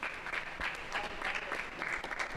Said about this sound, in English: You can see his teammates cheering him on a lot.